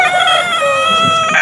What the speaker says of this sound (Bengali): এটা মোরগ, এটা বড়টা মোরগ, এটা মুরগি।